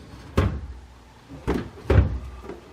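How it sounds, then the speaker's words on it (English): A drawer in a Samsung French door refrigerator slides out, heard as several close thumps and rumbling knocks of the runners, loud against a quiet room. "And the drawer comes out"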